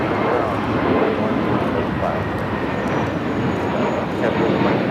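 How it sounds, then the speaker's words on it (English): A JetBlue Airbus A321neo LR jet takes off at LAX, a steady loud broadband engine roar that holds constant throughout, with faint voices underneath. "JetBlue 2010 taking off to West Palm Beach on the A321neo LR."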